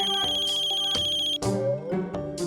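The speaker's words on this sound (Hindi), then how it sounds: "राधिका का फोन है" A mobile phone plays a bright electronic melodic ringtone in a sitcom scene, with repeated tonal notes ringing clearly and close for a couple of seconds, alone without speech.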